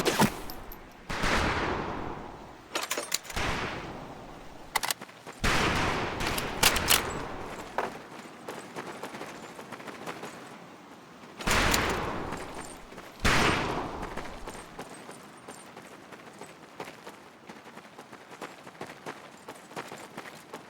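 Rifle and machine gun fire on a range in Medal of Honor Pacific Assault: loud bursts and sharp single shots in irregular clusters, separated by quieter gaps of fainter distant firing.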